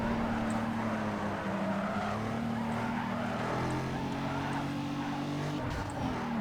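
Drift car tires skid and squeal continuously in Need for Speed Underground 2, a sustained high screech over a steady engine drone, loud and close without any speech.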